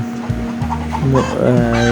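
Wild junglefowl roosters and hens on a hill farm, loud close clucking and short crowing calls in quick succession, with no one speaking.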